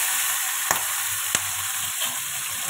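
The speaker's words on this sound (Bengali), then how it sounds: "তেল গরম হয়ে গেছে। আর এখানে এবারে চিংড়ি মাছগুলো দিয়ে দেব।" Prawns frying in hot oil in a Bengali home kitchen give a loud, steady sizzle throughout, broken by a couple of sharp clicks or stirring knocks.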